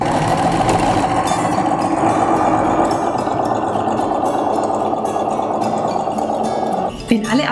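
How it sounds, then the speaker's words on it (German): A sewing machine runs a decorative appliqué stitch, a steady, close mechanical whir with a rapid needle rhythm that holds for several seconds, then stops with a brief clink. "Alternativ könnt ihr auch mit einem Zierstich eurer Nähmaschine applizieren."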